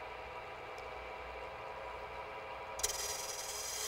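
Wood spins on a lathe at about 1230 RPM while a candlestick is shaped in a woodshop. A steady mechanical whir drones along, then a bright, hissing cut starts near the end and carries on without talk.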